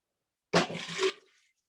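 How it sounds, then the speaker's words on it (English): Two cups of water are poured into a blender for a plant-based gravy with nutritional yeast: a single close, splashing pour of about half a second that then trails off into quiet. "add your 2 cups of water."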